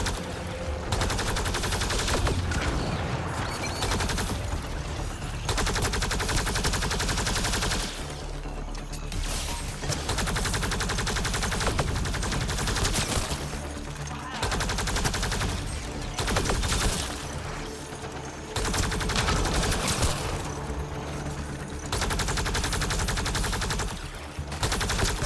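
Sustained bursts of automatic gunfire in the sci-fi shooter Mass Effect Andromeda, loud and dense, with brief pauses between volleys and no talk over it.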